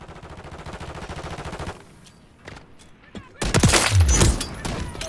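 Bursts of automatic gunfire in Call of Duty Modern Warfare 3, a rapid stuttering run of shots, a quieter stretch with scattered reports, then a loud close burst near the end.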